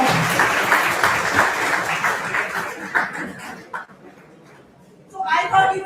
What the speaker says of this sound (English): Give a round of applause to both of them